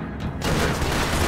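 Guns fire at car tires in Max Payne 3, a sudden loud volley of shots that begins abruptly after a short quiet moment and rattles on densely.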